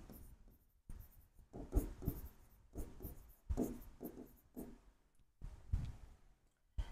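A pen writes out debit and credit column headings for an accounting ledger format on paper, in short bursts of scratchy strokes separated by brief pauses, close and quiet, with no talking.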